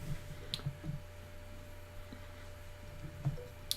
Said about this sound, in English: It's not an AV Geek show unless Skip is typing something on the computer